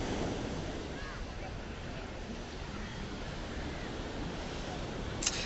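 Arabian Sea waves wash steadily onto Fort Kochi Beach in India, a continuous broad surf roar mixed with wind buffeting the microphone.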